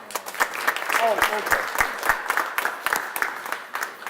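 A crowd of direct service workers at a rally in the Rhode Island State House library claps for an arriving senator, with steady enthusiastic applause and a few sharp close claps as people talk and call out over it.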